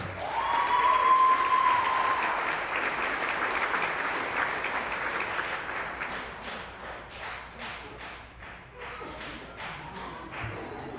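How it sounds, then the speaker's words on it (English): At a school employee recognition celebration, an audience gives dense applause that slowly thins into scattered, separate claps toward the end, heard at a moderate distance. "The applause that keeps on giving."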